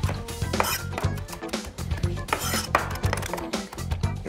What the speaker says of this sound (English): Chop that up fine.